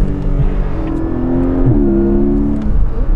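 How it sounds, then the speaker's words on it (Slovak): Porsche engine revving hard with the active exhaust flaps open during laps at a Formula 1 circuit, a loud, steady throaty drone rising and holding pitch close by. "Zapol som aktívne klapky na výfuku."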